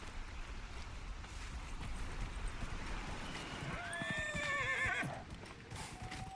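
A horse in Dragon Age: Inquisition whinnies in a rising, wavering call near the end, over a steady bed of clip-clopping hooves and game ambience, fairly close and loud.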